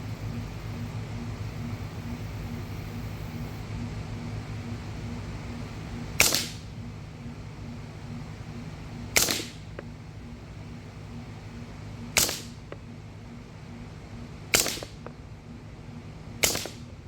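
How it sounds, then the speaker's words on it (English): An airgun firing a five-shot group outdoors, five sharp cracks spaced a few seconds apart over a steady low hum, close and loud against a quiet background. "There's your 5 shots with the Vortex."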